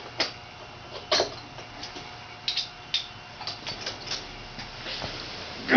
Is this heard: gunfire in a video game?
no